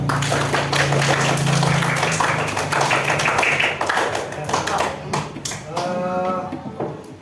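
An elementary school class claps hands together in a classroom, a loud burst of many hands at first that thins into scattered, rhythmic claps, with children's voices mixed in.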